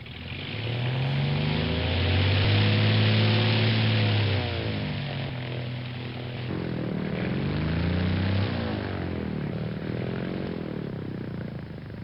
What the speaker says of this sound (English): After starting the Connie's 4 engines